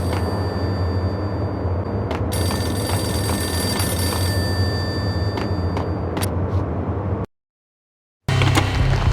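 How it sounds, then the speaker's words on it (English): A payphone rings repeatedly in the Max Payne video game, each loud, steady ring carried over a dense, noisy ambient rumble that cuts out briefly before returning. "Payphone started to ring."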